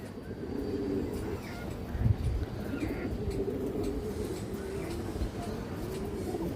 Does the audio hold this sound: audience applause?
no